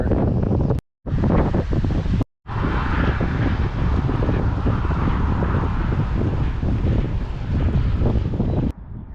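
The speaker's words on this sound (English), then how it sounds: "It's a beautiful river." A river rushes beside a campsite in British Columbia on the way to Manning Park, a steady loud roar of flowing water buffeted by heavy wind noise on the microphone, broken by two brief dropouts.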